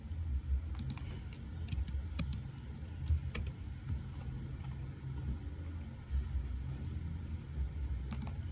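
Typing numbers into an input field on a computer keyboard, scattered soft key clicks over a steady low rumbling background hum, no talk.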